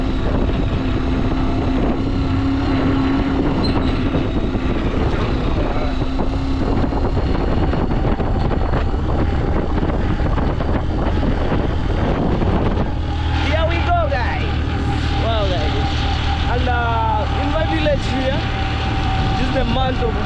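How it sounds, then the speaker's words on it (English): Motorbike ride past dry harvest-season fields, with a steady engine drone and heavy wind rush throughout, the engine note shifting and rising partway through as the ride goes on. "So driving my motorbike over here, going back."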